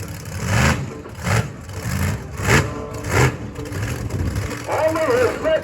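A monster truck engine revs in repeated surges while the truck struggles through mud at a show, loud rhythmic roars with a voice talking over the engine near the end.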